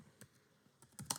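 Keystrokes on a computer keyboard, a few scattered clicks that gather into a quicker cluster toward the end, faint and close in an otherwise quiet room.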